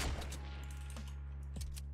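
Gunfire from the video game Fortnite sounds as a quick burst of shots at the start and then a few sharp single shots, all over a steady, loud background of game noise.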